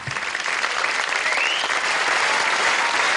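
A Paris theatre audience at a performance of the musical Avenue Q breaks into loud, sustained applause, a dense wash of clapping that holds steady throughout.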